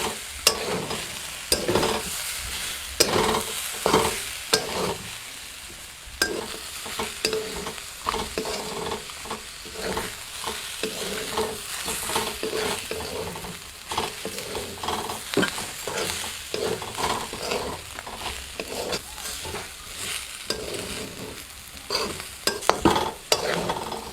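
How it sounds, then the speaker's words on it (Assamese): Ginger and garlic frying in a pan, with a steady sizzle and frequent scraping stirs of a spatula, close and continuous with no talking. "এতিয়া আকৌ এনেকৈ 5 মিনিটমান সময় ভাজিম আদা নহৰুৰ লগত"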